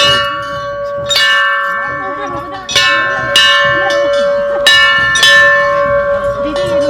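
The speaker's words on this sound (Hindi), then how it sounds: "चलो हम भी बजा लेते हैं घंटी" A temple bell at a Nagraja temple rings out in several separate strikes, each leaving a long resonant hum that lingers between hits, with faint voices and movement underneath.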